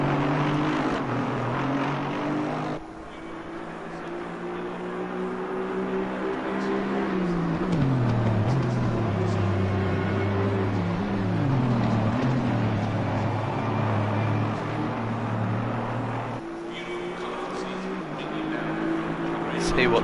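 GT4 race car engine in Assetto Corsa Competizione at Zolder, a sustained droning tone rising and falling through gear changes and corners, loud and continuous, with a commentator talking over it.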